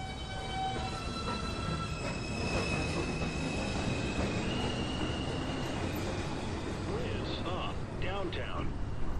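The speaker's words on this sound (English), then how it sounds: "This is a Manhattan-bound 2 train." NYC subway 2 train running through Beverly Road station, wheels squealing in long high-pitched tones over steady rail rumble, with station announcements heard.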